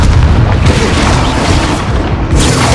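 A Confringo blasting spell goes off in Hogwarts Legacy: a loud, continuous booming explosion with heavy low rumble, sustained for a few seconds, with no voices.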